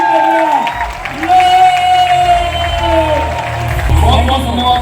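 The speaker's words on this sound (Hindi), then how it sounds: "आगे की तरफ आगे आके वो जोरदार तालियां म्यूजिक के साथ वेलकम कर रहे हैं" At a company's 19th anniversary celebration, a crowd applauds and cheers loudly with music playing alongside, a steady roar of clapping under a voice speaking over it.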